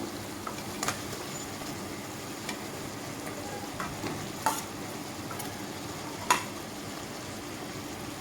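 Potatoes and pointed gourd fry in spice paste in a pan, giving a soft continuous sizzle with occasional sharp clicks of a spoon stirring against the vessel.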